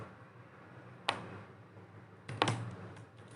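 Code typed on a computer keyboard, with two quiet clusters of key clicks, one single and one quick double, against soft room hiss.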